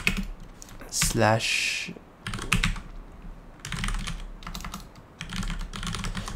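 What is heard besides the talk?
typing on a computer keyboard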